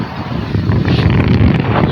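Wind blows across a farm field with neem trees, a loud, continuous rushing buffet close to the microphone and no speech.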